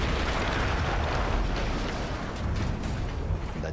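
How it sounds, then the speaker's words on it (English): Explosion in the World War I shooter Battlefield 1: a loud, continuous roaring rumble with dense low-end debris and crackle, sustained at steady volume for the whole stretch without a clear single onset. "That explosion was one of the sweetest sights of the war for me."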